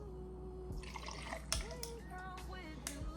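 Homemade brown sugar syrup pours into a morning matcha drink, a faint, soft liquid trickle with a few small drips, close by and quiet against a low background hum.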